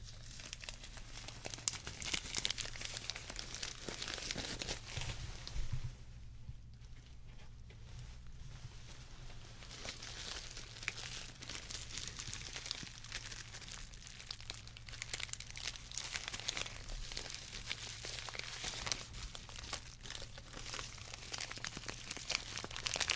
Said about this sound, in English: Let's just do some more solo snack bar wrapper.